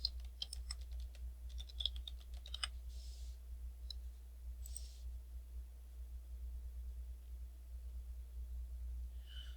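Quick bursts of typing on a computer keyboard as a search is entered, a rapid run of clicks that stops, then a couple of isolated key taps over a steady low hum.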